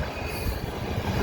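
A CN freight train rolls past on the rails near a station in London, Ontario, its wheels rumbling loudly and continuously close by with faint squeals.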